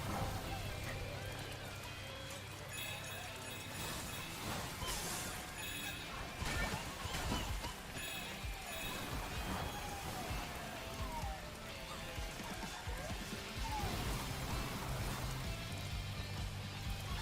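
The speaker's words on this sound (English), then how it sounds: "you can hear and feel the rain pattering on your controller" Rain patters in the video game Astro's Playroom, a light scattered drizzle of drops mixed with game sound effects and music, with a voice talking over it at times.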